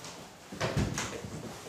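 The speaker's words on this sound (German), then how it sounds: "Schließ bitte die Tür." An office door is pushed shut in a dramatised police scene, a short muffled thud with a brief rattle, close by and without speech.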